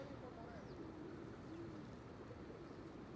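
Pigeons cooing on a busy New York City street in Midtown Manhattan, soft low coos rising and falling over steady traffic and crowd noise.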